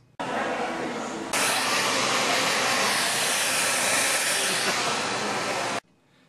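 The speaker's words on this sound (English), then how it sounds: "Sit under a sexy dryer for about 20 minutes." A hood hair dryer roars steadily with a broad airy hiss, jumping louder after a second, then cutting off abruptly near the end.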